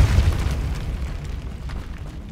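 A Repulsa spell blast in the video game Hogwarts Legacy: a single loud, deep boom that bursts at the start and rolls off into a low rumbling decay.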